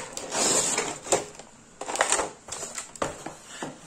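A children's diamond painting kit package is torn open, giving close, faint rustling and crinkling of plastic and cardboard in uneven bursts with small clicks, and no talking.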